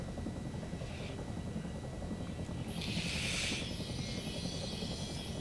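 A helicopter in a video game drones with a steady rotor rumble, moderately loud and continuous, with a brief brighter hiss partway through.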